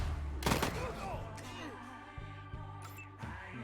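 Gunshot headshot in Wasteland 3, a sharp close crack near the start followed by lighter hits and game effects over a low hum, brief and without talk.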